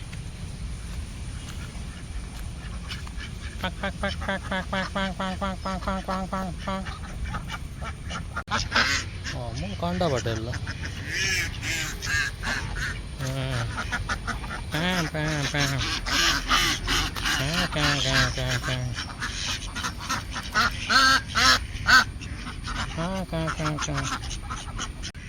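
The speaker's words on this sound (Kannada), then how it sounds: "ಬಾತುಕೋಳಿ ಉಂಡು ಬಾತುಕೋಳಿ" Ducks quack repeatedly in bursts at a lake in Karkala, several birds calling over one another, with people talking in between and some background chatter.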